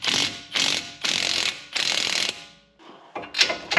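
Ratchet wrench clicking in several quick bursts while turning a pinch bolt on a Chevy Cobalt lower control arm, close and loud, with short pauses between strokes.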